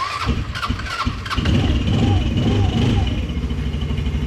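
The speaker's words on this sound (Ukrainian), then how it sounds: "Тобто тільки з вижатим тормозом він заводиться." A Linhai M150 ATV's engine cranks with a few short starter bursts, then catches and settles into a steady close idle while someone speaks over it.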